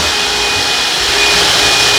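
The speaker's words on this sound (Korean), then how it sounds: "지금 청소기로 1차로 주방 청소 중 영상이고요." A vacuum cleaner runs steadily and loudly while cleaning a kitchen in a new apartment, a constant whooshing motor drone with a thin high whine, no talk.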